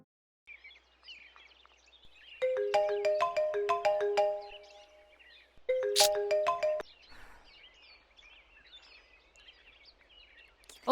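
A mobile phone rings unanswered, playing a bright melodic ringtone in two bursts with a short gap between them, clear and close in an otherwise quiet room.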